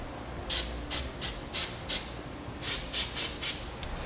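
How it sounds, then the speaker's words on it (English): Lithium grease sprayed onto the rubber of a B and W Patriot fifth-wheel hitch pivot arm on a 2017 Chevrolet Silverado: a close, loud series of about ten short aerosol hisses, spaced in a steady rhythm with a brief pause midway. "I'm just going to spray a little bit of lithium grease on the rubber"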